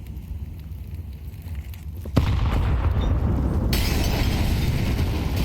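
A grenade blast hits midway through a Counter-Strike 2 pro league match, a sudden loud boom that gives way to a sustained roar of debris and fire, after a quieter stretch of game ambience.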